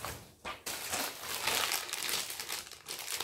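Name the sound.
handling crinkly instruction manual packaging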